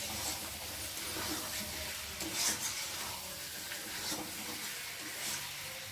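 Chicken sautéing in a covered pan hisses and sizzles softly and steadily, with occasional scraping stirs rising briefly above a quiet, constant frying bed.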